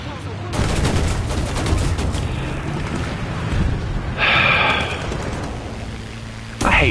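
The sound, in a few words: aircraft strafing gunfire in video game War Thunder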